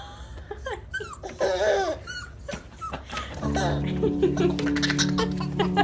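Soft high whimpers and squeaks from a small dog mix with a child's giggles and chatter from people nearby, indoors and close.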